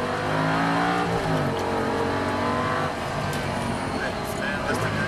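An Audi R8 V10 accelerates hard on a track, its engine note loud and close and rising steadily through the gears with a brief tire squeal, while an instructor keeps talking over it.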